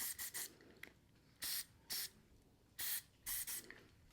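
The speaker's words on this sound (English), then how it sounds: "Spraying sunscreen, not a good idea." Sunscreen spraying from an aerosol can in a small room: a series of short, loud hissing bursts in quick pairs and threes, separated by near silence, with no talking.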